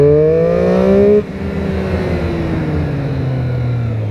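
A motorcycle revs hard nearby, its whine climbing in pitch, then drops off and settles into a steady, falling engine drone.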